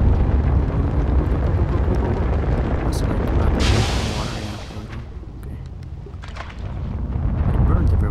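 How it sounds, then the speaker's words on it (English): A fireball in the video game Limbo erupts with a deep, loud roaring whoosh that swells, fades and rumbles back, like a booming burst of flame. "I think, yeah, it's a fireball."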